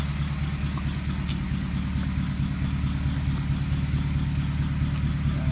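A 1953 Pontiac Chieftain engine idles steadily with a deep, rhythmic low rumble and no breaks, close and fairly loud.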